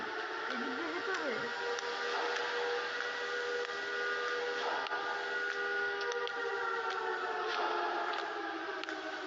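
Siren Head's siren wails from a horror video game, layered droning tones that hold steadily at a moderate, distant-sounding level with no talking.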